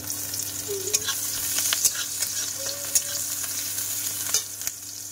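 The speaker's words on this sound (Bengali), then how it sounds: "পেঁয়াজ কুচি আর রসুন থেতো দিয়ে দিলাম।" Chopped onion and crushed garlic fry in hot oil in a wok, giving a steady close sizzle with a few sharp pops and clinks of stirring, while a low hum runs underneath throughout.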